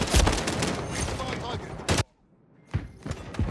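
Gunfire crackles in Modern Warfare III, dense bursts of close shots with rattling echoes, a sudden silence, then more shots resuming, with speech mixed in.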